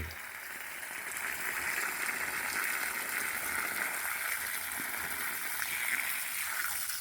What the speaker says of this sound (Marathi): त्याच्या बुंद्यामध्ये जास्तीत जास्त पाणी सोड सोड